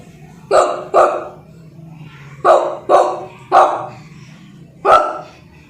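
A schoolboy mimics a dog with six sharp, loud barks, mostly in quick pairs, delivered close with brief gaps between each set.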